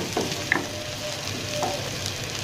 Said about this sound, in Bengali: পেঁয়াজটা আমি বেশি ভাজবো না, হালকা একটু পেঁয়াজের কাঁচা গন্ধটা যাতে চলে যায় সেরকম করে ভেজে নেব।